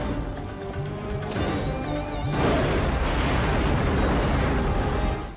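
A huge mine explosion in an action movie: after tonal score and effects, a loud broadband blast erupts and roars on for several seconds.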